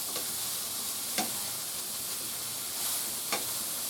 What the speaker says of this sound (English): So how long do we saute this for?